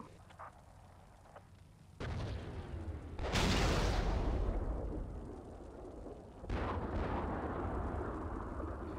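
A Spike anti-tank missile launch, heard as a sudden loud burst that swells into a long roaring rush, then a second rumbling surge a few seconds later. No voices are heard.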